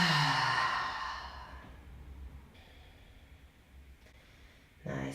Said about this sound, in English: And again, take a deep breath in.